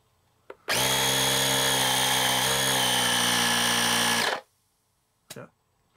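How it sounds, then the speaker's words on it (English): A portable air compressor built into an Asperx AX260 jump starter runs loud and steady for about three and a half seconds, a buzzing mechanical whine, then shuts off, with brief clicks before and after. "Now let's go ahead and turn on the air compressor."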